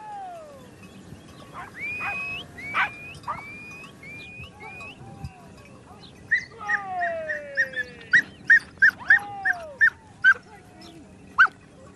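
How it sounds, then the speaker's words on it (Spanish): Hunting dogs on a Spanish big-game hunt (montería) bark and yelp in the distance in hill scrubland, starting scattered, then settling into a quick, regular run of high baying calls. "Con la suelta, el monte se llena de ladridos y voces."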